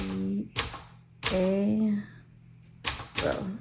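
A 1984 UNIS TBM De Luxe manual typewriter gives a few sharp mechanical strikes and clatters spaced apart, loud and close, with brief ringing tones between the bursts of keys.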